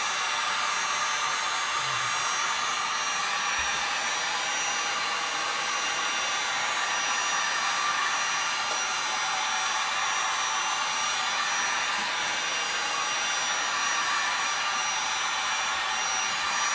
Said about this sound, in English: Run the heat gun over it,